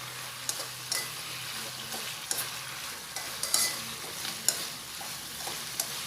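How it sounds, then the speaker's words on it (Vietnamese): Fresh tofu skin is stirred into satay sauce in a pan, with soft repeated spatula scrapes and taps at a steady rhythm over a gentle sizzle. "các bạn trộn nó lên cho nó thấm hết gia vị vô đây"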